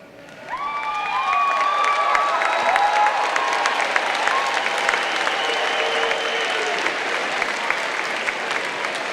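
A graduation audience at a 2018 afternoon commencement bursts into loud, sustained applause with scattered cheers and whoops, filling the hall continuously for several seconds.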